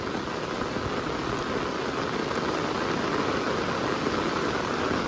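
Heavy monsoon downpour in Konkan, a dense, steady hiss of rain close by with no breaks and no voices.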